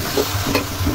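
Beef for kosha mangso, cooked with whole spices, is stirred in a hot pan: a brief, close burst of sizzling with soft scraping strokes.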